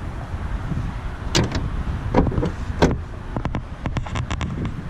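The doors of a Corvette Grand Sport are shut, giving several sharp, close thuds and clicks in quick succession with little else around them.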